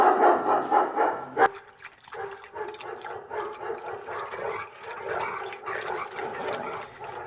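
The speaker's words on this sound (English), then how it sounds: "And eaten by rabid dogs." Snarling, barking dogs as a film sound effect, a loud rapid run of barks up front, then a sharp cut into quieter, continuing growls and yaps that carry on in uneven bursts.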